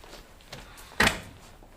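A door opens with a soft creak followed by a short, sharp knock of the latch, close and brief against a quiet room.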